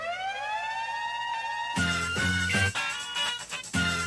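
A rising wailing siren sample from a hip-hop track sweeps upward alone, then continues under heavy, punchy drum hits, loud and close.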